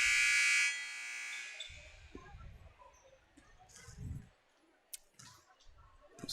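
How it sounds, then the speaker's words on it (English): Basketball scoreboard buzzer in a school gym, one loud sustained electronic blare at the start that cuts off sharply, followed by scattered clicks, thumps and faint gym noise. "So there's the buzzer."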